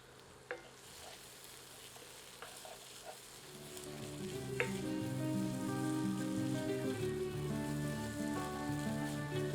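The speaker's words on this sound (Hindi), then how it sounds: "अब इसे ढककर 10 मिनट लो हीट पर कुक करते हैं, पर बीच बीच में करछी चलाते रहते हैं।" Banana flower curry cooks in a pan while a ladle stirs it now and then. A few scrapes come first, then a soft, steady sizzle builds to a moderate level, with no voices.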